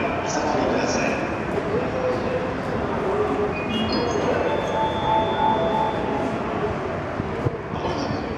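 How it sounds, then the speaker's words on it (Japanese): The Hokutosei overnight sleeper limited express, eleven cars bound for Sapporo, pulls into platform 9 at Omiya station with a steady loud rumble and rolling clatter, while station announcements and a few high squeals sound over it. "まもなく9番線に寝台特急北斗星札幌行きが参ります。"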